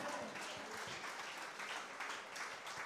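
A church congregation applauds and cheers God during a French-language worship service, a steady wash of clapping and crowd noise close by throughout.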